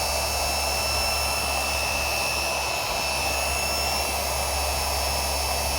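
A RUPES HLR15 polisher runs steadily on speed 5 with pressure applied, a loud, continuous whirring drone with a high whine that stays even throughout, with no talk.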